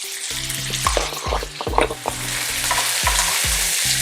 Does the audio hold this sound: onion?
yes